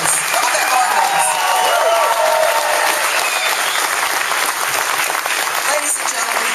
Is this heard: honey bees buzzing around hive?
no